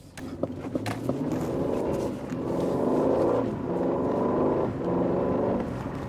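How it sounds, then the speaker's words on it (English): An Aston Martin DB12 grand tourer in GT mode accelerates hard, its engine note climbing and surging in a few steady pulls as it gathers speed, loud and close throughout. "We're currently in GT mode. Pretty good acceleration there."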